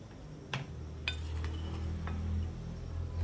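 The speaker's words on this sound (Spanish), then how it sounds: "Vamos a agregar 4 cucharadas de nuestro carbón y vamos a revolver muy" A spoon stirs a mixture with added charcoal in a container, making a few light clinks and scrapes over a low background hum, close and quiet.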